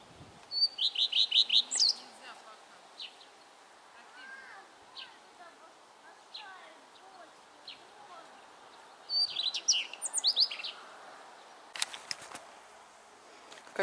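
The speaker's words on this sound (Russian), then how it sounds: "Давайте насладимся птичками." Small birds chirp and twitter in a spring garden at a country house, with bright clustered bursts of song near the start and again later, separated by softer scattered calls over quiet surroundings.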